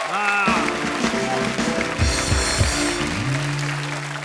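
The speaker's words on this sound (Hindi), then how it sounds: "इन तीनों फनकारों के लिए जोरदार तालियां।" Studio audience applause for three comedians on a Hindi TV comedy show, a moderate crackle of clapping mixed with loud musical tones and stabs that shift throughout.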